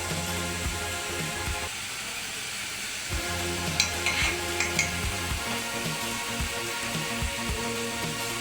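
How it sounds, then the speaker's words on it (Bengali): Food sizzles steadily in a pan during home cooking for a Janmashtami meal, with intermittent scraping and stirring knocks over the continuous frying hiss. "মাসি নিজে একলা হাতে রান্না করছে গোপালের জন্য"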